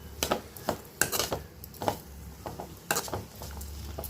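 Cabbage being sautéed in a pan, with soft scraping stirs and light metallic knocks recurring at irregular intervals over a faint, low sizzle.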